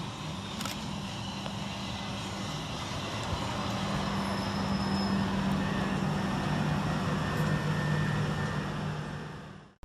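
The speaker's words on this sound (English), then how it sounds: "here comes our train in the form of 377101 and 377154, working the 1006 Southern Railway service from Caterham and Tattenham Corner to London Bridge" Southern Railway class 377 units 377101 and 377154 pulling into Anerley station: a sustained rumble and wheel roar with low humming tones, loud and steady throughout before cutting off abruptly.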